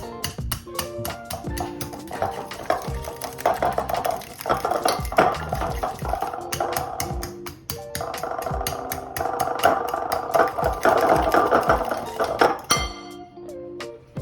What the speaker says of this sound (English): add the butter, sugar, and banana flavoring and mash them even more